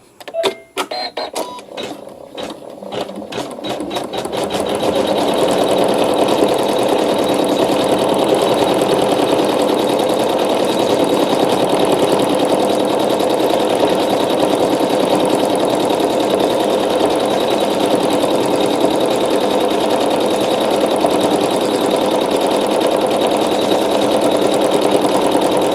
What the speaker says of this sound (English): So now I'm going to just do a few stitches and trim my thread tail, and then it can finish our quilting for us.